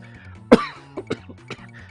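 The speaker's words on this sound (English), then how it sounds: "I do apologise for the coughing" A single sharp cough, then a few softer coughs and throat-clearing sounds from a man under the weather, close by, over a low steady hum.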